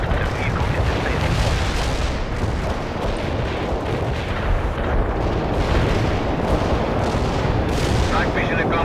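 An artillery barrage rumbles through a World in Conflict battle: dense, overlapping booms and blasts roll on without pause, loud and heavy from start to finish.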